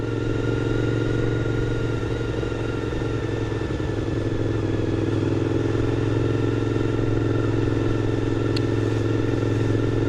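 A noisy motorcycle rides along a road behind an old truck, its engine droning steadily and close with a constant rumble and no talking.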